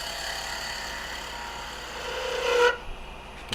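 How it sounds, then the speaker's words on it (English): A small spindle gouge cuts into wood spinning on a lathe while a hair pin is turned, giving a soft, steady scraping hiss with a faint motor hum, rising briefly before the cut stops abruptly. "Got a little spindle gouge here."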